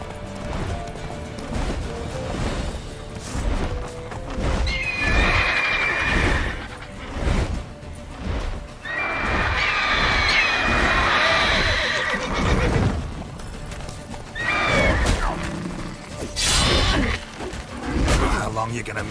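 Roach the horse gallops and whinnies in The Witcher 3, hooves clip-clopping under loud combat effects and voices, with several shrill neighs standing out over the din.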